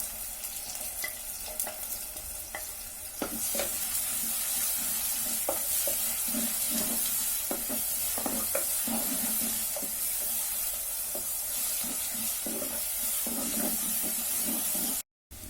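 Steady close sizzling of shallots and garlic frying in hot coconut oil, with scattered crackles and pops throughout and a brief cut near the end.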